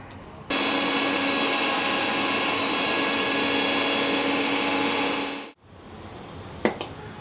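Mixer grinder whirring loudly and steadily as it blends green garlic thecha with salt, running about five seconds before cutting off abruptly, followed by a brief clatter of the jar.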